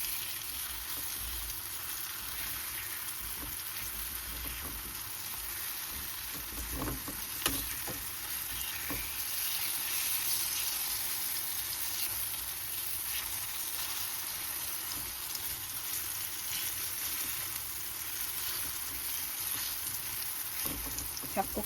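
Batter for a banana cake cooks in a nonstick pan with a steady, soft sizzle and frying hiss throughout, occasional faint scrapes and clicks, no talk.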